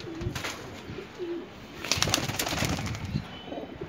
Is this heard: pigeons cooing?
yes